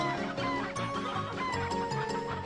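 Chickens clucking in Breath of Fire IV, a steady busy chorus of overlapping clucks and cackles from several birds, continuous and fairly close, with no one talking.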